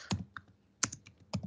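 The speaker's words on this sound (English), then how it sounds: "I'm going on typing without checking." Several crisp, close keystrokes on a computer keyboard arrive in short uneven clusters with brief pauses between them, alone in a quiet room.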